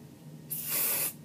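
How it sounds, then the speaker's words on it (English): A short, close burst of hairspray from an aerosol can, a sharp airy hiss lasting about half a second before cutting off. "Then I'm going to take my hairspray, hold my bangs underneath,"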